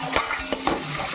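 Food fries in a pan during cooking of a cashew egg fried rice, with a brief sizzle and a few scraping, clinking stirs of a utensil against the metal.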